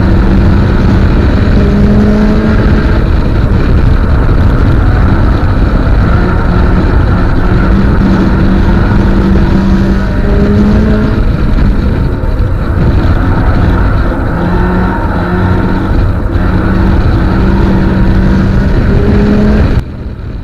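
A race car accelerates hard during a race, its engine loud and close, pitch climbing repeatedly through the gears in a steady flat-out drone with no voices over it.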